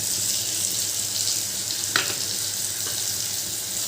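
Masala paste of chili powder mixed with water hits hot oil with tomato in a pan, making a loud, steady broadband sizzle throughout, with one sharp clink about halfway.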